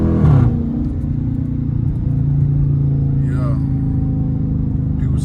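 A Dodge Charger R/T engine rumbling loudly from the cabin during a rev-matched downshift, with a brief throttle surge at the start before settling into a steady, deep drone; someone briefly speaks.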